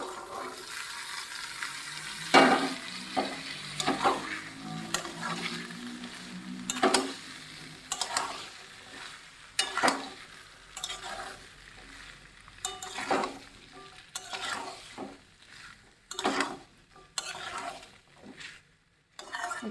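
Chickpeas and potatoes frying and sizzling in a pan with spices, with repeated scraping and stirring strokes and occasional clanks of a utensil against the pot.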